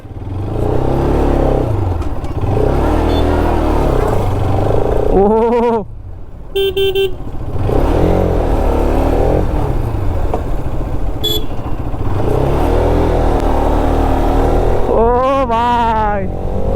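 A motorcycle that just had its key changed idles and revs loudly up close, its engine rising and falling in repeated surges as it rides off. Excited voices and a few short horn toots cut in.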